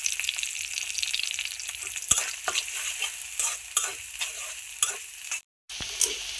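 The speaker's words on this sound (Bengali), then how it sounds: "এই যে ডিমটা আমার ভালো করে ভাজা হয়ে গেছে" Egg fries in a pan with coriander leaves and a little salt, a steady soft sizzle broken by several sharp scrapes and clinks of a spatula stirring, close and moderately quiet, with no talking.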